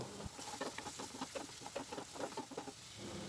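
Onions and ginger-onion-garlic paste sauté in hot oil for a green chicken dish, giving a steady, soft sizzle broken by irregular crackles and stirring scrapes, with no voice over it.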